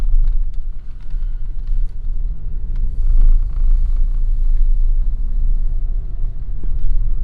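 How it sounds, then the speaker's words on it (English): A car rolls slowly around the back of a building toward an automatic car wash, a close, steady low rumble of engine and tyres with faint knocks over it. "Feels very secretive driving around the back of the building."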